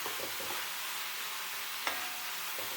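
Tomato masala frying in oil for a cashew paneer curry gives a soft, steady sizzle, with a few light stirring scrapes and one sharper clink of the spoon against the pan.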